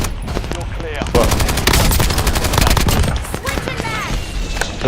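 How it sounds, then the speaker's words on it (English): Rapid, loud gunfire and blasts during an airstrike in a video game match, close and sustained in dense bursts that thin out near the end, with a voice heard faintly among the shots. "The fucking airstrike."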